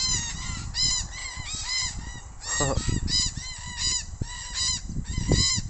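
A flock of red-tailed black cockatoos gives loud, grating, repeated calls that overlap continuously, with a brief thump partway through and no speech, in the Australian bush.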